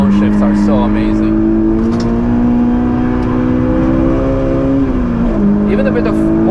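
A Honda S2000 on the Nürburgring holds a loud, close engine drone that climbs steadily, then dips sharply as the revs fall in a downshift, with voices talking over it throughout.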